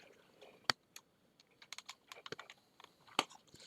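Computer keyboard keys clicking in scattered, irregular bursts, quiet and close, with a few sharper taps standing out, setting up a Raspberry Pi for ham radio.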